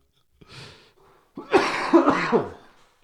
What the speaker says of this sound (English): I'm making myself laugh and making myself cough